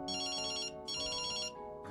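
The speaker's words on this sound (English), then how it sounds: "The phone rings" A telephone rings at a dinner between two women, giving two clear electronic ring bursts with a short gap between them and a third ring just starting at the end, loud and close.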